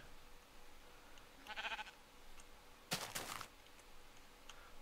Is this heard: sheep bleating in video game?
yes